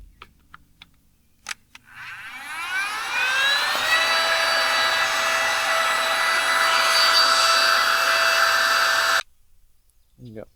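A small air pump blows air into a DIY blacksmith forge, spinning up to a loud, steady high whine that holds for about seven seconds before cutting off sharply.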